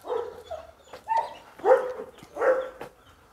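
Dogs barking and whimpering up close in a few short bursts, with yips and whines between the barks, and no voices heard.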